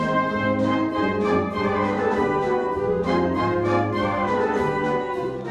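A band plays the winning composition of an international pasodoble competition at Pozo Estrecho, brass and percussion sounding full and steady throughout with no voices.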